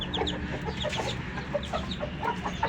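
A hen and rooster of an aseel breed cluck repeatedly in short, irregular bursts, fairly close, with no talking over them.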